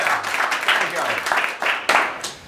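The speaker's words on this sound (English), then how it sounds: "can I have an applause for" An audience at a Green IT conference session applauds in uneven bursts of clapping through the short stretch, moderately loud, with no clear speech over it.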